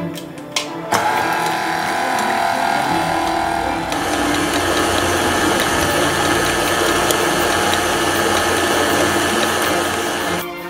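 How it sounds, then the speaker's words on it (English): Ingredients for a no-bake mocha cheesecake are beaten until smooth and creamy, with a loud, continuous mechanical mixer whir that starts after a brief rattle and runs steadily to the end. "Now we're going to mix these ingredients until it's nice and smooth and creamy."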